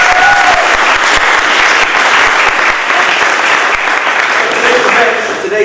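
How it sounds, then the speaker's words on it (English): A loud, dense round of applause from a crowd at a community volunteer event, continuous clapping filling the space for several seconds. "Can we give them a round of applause?"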